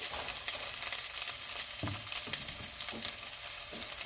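Food stir frying in a pan, a soft continuous sizzle with occasional scraping and tapping of a utensil, fairly quiet and without talk.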